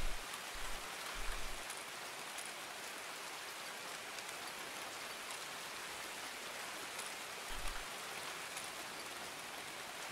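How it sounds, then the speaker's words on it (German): Constant rainfall in the shooter game Escape from Tarkov, a soft even hiss that fills the scene with a few low thumps and no talking. "Ein bisschen weniger Regen wäre echt geil."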